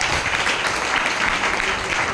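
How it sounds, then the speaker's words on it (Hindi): A seminar audience breaks into brisk, dense applause, a continuous wash of clapping from many hands with a voice faintly mixed in. "तो एक बार इसके लिए भी शानदार वाली तालियां होनी चाहिए।"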